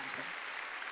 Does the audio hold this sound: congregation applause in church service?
yes